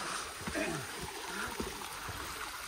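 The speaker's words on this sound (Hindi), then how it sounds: "ये पानी अभी तक ऊपर से आ रहा बहुत" Water in a mountain village near Wakan flows down from above, making a steady close rushing and trickling sound with faint splashes throughout.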